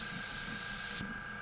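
Clogged airbrush at 40 psi giving a steady close hiss of air that cuts off abruptly near the end, no paint spray texture, alone without talk.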